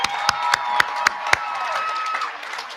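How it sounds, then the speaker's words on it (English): Graduation audience applauding in a large hall, a broad wash of clapping and light cheering with a few sharp, distinct claps standing out near the front. "Let's give a big round of applause."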